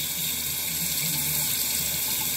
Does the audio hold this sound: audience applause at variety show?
no